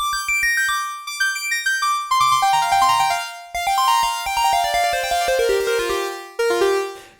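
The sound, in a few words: synthesizer lead preset solo, Oberheim OB-X8 vs Korg KingKorg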